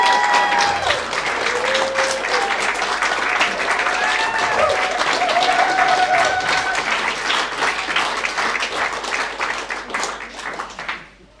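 A crowd at a political dinner gathering claps in sustained, dense applause that stays loud and even for several seconds before tapering off near the end, with some voices and cheers mixed in.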